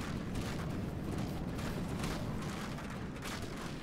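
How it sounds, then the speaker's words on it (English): Cannon fire tearing into an enemy vessel in the naval combat game From The Depths, a steady dense roar of blasts and impacts at moderate distance with no clear gaps. "my cannon just rips apart everything"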